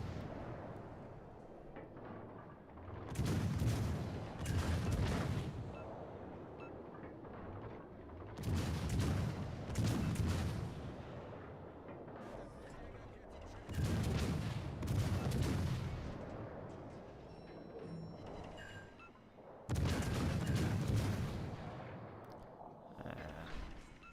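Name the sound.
warship gunfire in video game World of Warships: Legends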